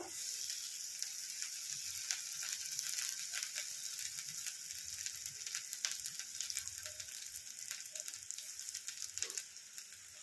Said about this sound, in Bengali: মাটন কিমা কষানো হবে